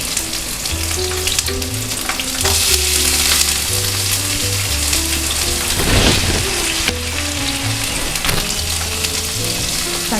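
Vegetables with chili stir-fried in a hot pan, a steady loud sizzle and crackle running throughout with stirring clatter, while low musical tones play underneath.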